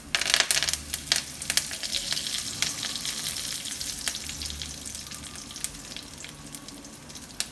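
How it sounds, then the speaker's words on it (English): Mustard seeds, cumin and curry leaves dropped into hot oil, a soft crackling sizzle with sharp pops and spits scattered over a steady frying hiss, moderately quiet and close. "going to add a little bit of mustard seeds. A little bit of jeera. Some curry leaves."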